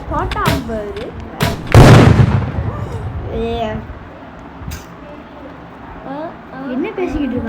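A rocket launcher fires in a Roblox video game, giving a loud blast and booming burst near the start followed by fainter pops and game effects, under excited talk from several voices.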